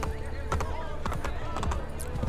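Horse hooves clip-clopping in Assassin's Creed Brotherhood, a steady run of sharp hoofbeats near and moderately loud, with someone talking over them throughout.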